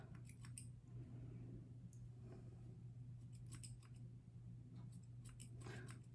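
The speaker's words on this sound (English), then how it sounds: "I also do this thing where I kind of drag the scissors as I cut." Scissors snip and drag through hair during a home shag haircut, with a run of quiet, crisp cutting sounds in bursts over a steady low hum, fairly close and with no talking.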